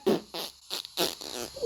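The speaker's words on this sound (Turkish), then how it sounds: "Kedi uçarak osurdu." A cartoonish cat lets out a quick run of short, sputtering fart noises in rhythmic bursts, fairly close and clear, with no talking over them.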